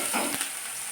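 Crushed dried chillies, shallots and garlic frying in a pan, a brief soft sizzle with a quick stirring scrape, faint and close.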